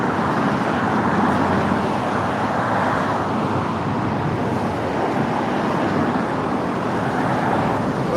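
Steady roadway traffic on a city street, a dense continuous rumble of passing cars and vehicles at close range with no clear breaks, no talk over it.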